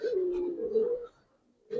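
Male Giribaz pigeon cooing, a steady low throaty coo held for about a second, close and clear, then a short pause before another coo begins.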